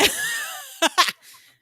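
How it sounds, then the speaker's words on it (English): A dog hacks and coughs nearby in a room, a raspy fit followed by two short harsh bursts and a faint trailing breath, with no talking. "If you hear hacking, it's my dog."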